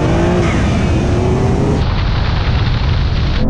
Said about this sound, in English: we're going to have another drag race